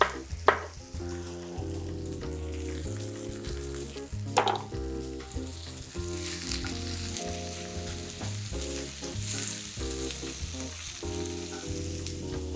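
Food frying and sizzling in a large, salted batch in a pan while preparing Turkish-style menemen eggs, with a steady hiss under prominent background music.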